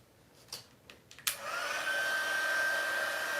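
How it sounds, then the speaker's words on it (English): An embossing heat tool switches on after a few faint clicks and handling taps, then blows a steady, loud whooshing hiss while heat-setting embossing powder on a Christmas fun fold card. "so now we grab my heat tool"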